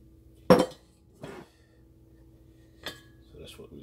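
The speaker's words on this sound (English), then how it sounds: "Then we're gonna break it up with our spoon, our fork." A metal fork clinking against a pot while breaking up peach preserves for a chantilly peach preserves cake: a few sharp, close metallic taps with gaps between them, over a quiet background hum.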